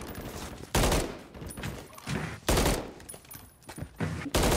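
Call of Duty MW3 gameplay gunfire: several loud, close bursts of rapid shots with short pauses between them, interspersed with quieter in-game sounds and no talking.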